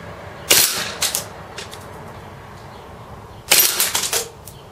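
A KWC Desert Eagle CO2 airsoft pistol fires two rapid full-auto bursts, each a quick clattering string of sharp cracks, with a gap of quiet between them and no talking.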